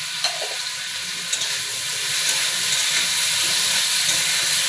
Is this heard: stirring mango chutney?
yes